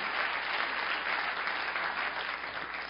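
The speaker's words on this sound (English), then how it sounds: "give him a massive round of applause" An audience at a design talk applauds steadily throughout, a dense even clapping from a full room with no pauses.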